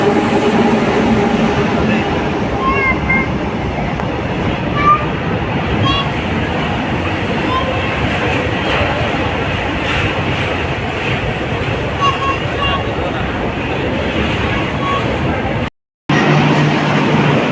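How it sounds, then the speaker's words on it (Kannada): A passenger train rolls into a station with a sustained loud rumble and clatter, steady throughout apart from a brief dropout near the end. "ಟ್ರೈನ್ ಇವಾಗ ಬಂತು"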